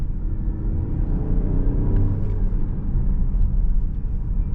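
A 2025 Opel Grandland Hybrid 145 pulls away hard in sport mode at night, a steady, loud low engine rumble with a slight rise in pitch as it accelerates.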